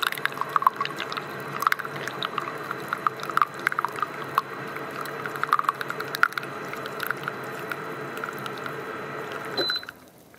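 Hot water pours steadily from an AQUIBEAR tabletop water purifier in hot mode, a continuous trickling stream into a cup with small bubbling crackles, stopping abruptly near the end.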